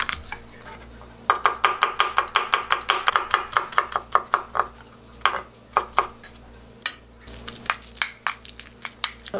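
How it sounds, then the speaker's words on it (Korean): Garlic being minced with a knife on a cutting board: fast, rhythmic runs of sharp chopping taps, pausing briefly before a second burst of quicker strikes, close and clear. "그리고 마늘 약간만 다져 넣을게요."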